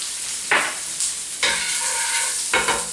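Garlic and mushrooms frying in a hot pan, a steady close sizzle broken by a few stirring scrapes.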